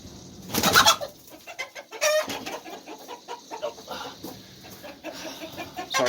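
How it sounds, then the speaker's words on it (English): A backyard hen clucks repeatedly in uneven, close bursts, with scratchy rustling between the calls and no talking. "You see my chicken in the background there."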